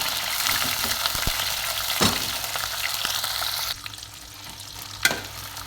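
Fish sizzles and crackles in hot oil in a pan, a steady loud frying hiss with brief spattering bursts that settles a little quieter toward the end.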